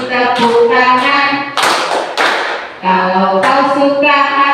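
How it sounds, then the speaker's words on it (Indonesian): Hand claps in a steady rhythm along with a group singing an Indonesian children's song in a classroom-style session, the claps in short bursts between sung lines, with voices singing throughout. "Kalau kau suka hati tepuk tangan."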